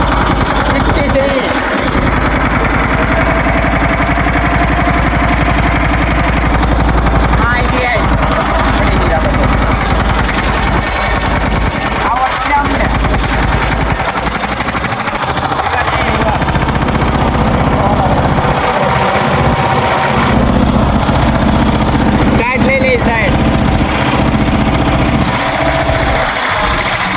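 A tractor engine runs loud and close, a steady rumbling, knocking drone that holds throughout, with voices faintly under it.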